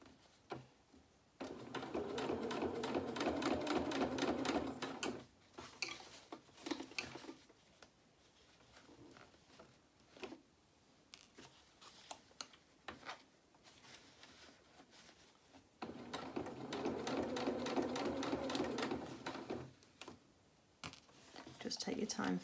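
A sewing machine stitches a seam on a doll-sized shirt of fabric, running in two sustained bursts of steady rapid needle clatter with quieter handling and pauses between them.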